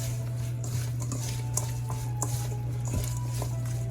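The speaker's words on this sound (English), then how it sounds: "Now let's mix all these ingredients together" Shrimp being stirred together with turmeric curry powder and other ingredients for Jamaican curry shrimp, soft wet squishing and light clinks of a utensil against a dish over a steady background hum.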